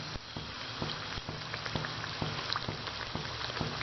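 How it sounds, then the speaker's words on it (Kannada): Rava vada of semolina dropped into hot oil in a kadai gives a steady bubbling sizzle with sharp crackles and pops scattered throughout, close and moderately loud. "ಎಣ್ಣೆ ಕಾದಿದೆ. ಇದರಲ್ಲಿ ಈ ವಡೆ ಬಿಡೋಣ."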